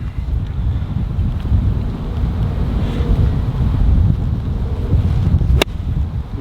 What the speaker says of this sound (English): Wind behind as well.